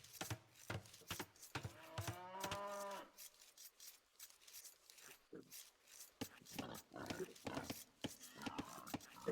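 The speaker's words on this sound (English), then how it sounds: "Bringing in the cows." Cows moo in a strategy video game as herds are brought in, a drawn-out low call standing out among game effects while commentators talk throughout.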